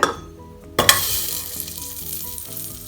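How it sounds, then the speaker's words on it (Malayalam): Two tablespoons of butter sizzling in a pressure cooker for pumpkin soup, with a sharp clank as it goes in, then a steady close frying hiss over about three seconds, with no talking. "കുക്കറിലേക്ക് ഞാൻ രണ്ട് ടേബിൾ സ്പൂൺ ബട്ടറാണ് ചേർക്കുന്നത്"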